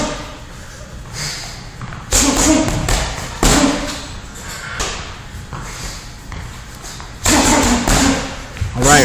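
Punches landing on a heavy bag during a boxing workout, with heavy close thuds coming in quick bursts and combos between quieter gaps.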